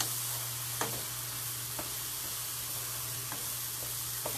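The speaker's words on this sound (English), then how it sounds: "Let's give this a quick stir." A vegan Italian strata mixture with spinach is given a quick stir in a pan: a quiet, steady sizzling hiss with a few faint scrapes of the spoon.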